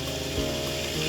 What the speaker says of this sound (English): Nice, steady, clear water coming out.